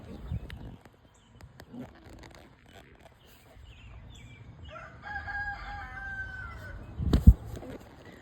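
A 10-pound rooster crows once at moderate distance amid quiet rustling and soft handling noises, followed by a sharp thump near the end.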